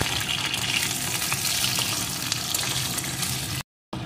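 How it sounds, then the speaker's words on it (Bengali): Carrot pieces sizzle steadily in hot oil in a pan while vegetables are fried for veg khichdi, a continuous close crackling hiss with a brief dropout near the end. "গাজরটাকেও একটু ভেজে নেব"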